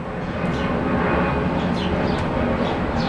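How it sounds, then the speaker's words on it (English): An airplane passing overhead, a steady broad rumbling roar that fills the whole stretch at moderate loudness, with no talking over it. "always with these damn airplanes"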